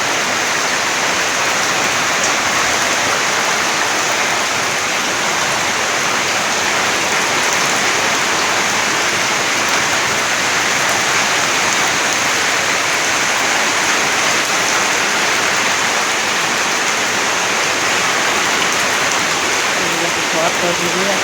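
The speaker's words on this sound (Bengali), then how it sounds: "এই যে দেখো বৃষ্টি" Heavy rain pours down steadily during a storm, a dense, loud, unbroken hiss of rain on surfaces that fills the whole stretch without pause.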